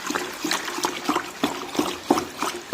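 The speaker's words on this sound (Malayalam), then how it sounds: "ഈ കമ്പ് കൊണ്ട് നന്നായി ഒന്ന് ഇളക്കി കൊടുക്കാം" A stick stirs homemade dishwashing liquid in a container, making rhythmic sloshing and swishing liquid sounds about twice per second, steady and fairly close.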